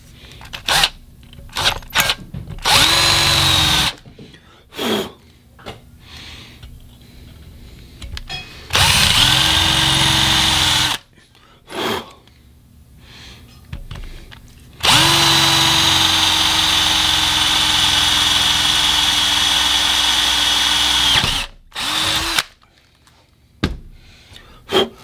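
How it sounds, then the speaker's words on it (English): A power drill bores into a cracked cylinder head in three bursts: a short whine, a second run, then a long steady grind of about six seconds, with quiet pauses and small clanks between. "as you can tell, I drilled my second hole"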